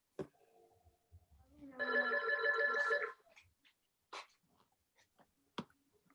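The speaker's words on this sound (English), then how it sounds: "She got her phone call." A telephone rings once in a short trilling burst of about a second, nearby and clear, between faint clicks and scattered quiet sounds in an otherwise hushed room.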